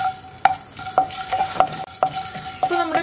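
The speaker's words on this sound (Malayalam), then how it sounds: "ഒരു അര മിനിറ്റ് ഒന്ന് ഇളക്കി കൊടുത്ത് ചൂടാക്കി എടുത്തതിന് ശേഷം" Fennel seeds and black pepper being stirred in a hot pan over a small burner, with a spoon scraping and tapping in a loose rhythm over a quiet sizzle, close and fairly soft.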